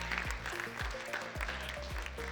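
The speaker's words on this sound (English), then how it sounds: "A round of applause to yourselves," Audience at the Silicon Oasis Summit 2026 gives a sustained round of applause, a dense, steady wash of clapping that fills the room for a couple of seconds beneath some low rhythmic booming.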